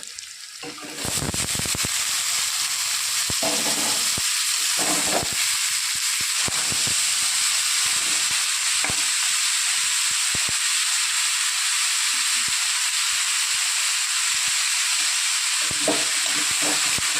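Banana stem pieces and nigella seeds fry in hot oil with a loud, continuous sizzle that stays steady throughout, with occasional clinks of a utensil against the pan.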